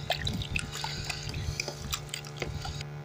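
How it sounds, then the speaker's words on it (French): Prickly pear fig pulp being stirred with one to two litres of added water for molasses, giving close, continuous wet sloshing and dripping with small squishy pulpy splashes throughout, no voices. "je vais lui rajouter 2 litres d'eau. Voilà, 1 ou 2 litres d'eau. Et je vais remuer."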